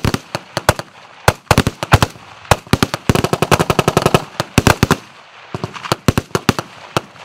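Machine gun firing during military field training, loud close bursts of rapid shots broken by short pauses, with no talk over the firing.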